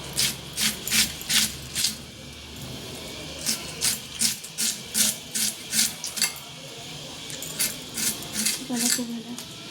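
Vegetables being cut finely by hand with a knife during home cooking prep: quick runs of crisp, scraping strokes in steady bursts of four to six, with short pauses between runs, close by and moderately loud over a low background hum.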